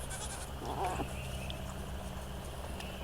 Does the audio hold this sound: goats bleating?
yes